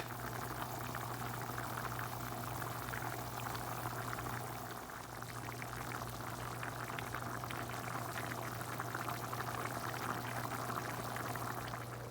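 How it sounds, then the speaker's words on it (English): Pot of pork carnitas in red sauce at a steady boil on the stove, a continuous dense bubbling and simmering wash with a low steady hum beneath, even in loudness throughout and free of speech. "it's starting to come to a boil finally"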